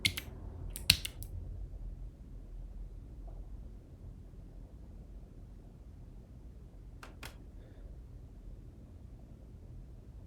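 A few quick bursts of computer keyboard typing, crisp clicks at the very start and again near the end, separated by a long quiet stretch of faint room hiss.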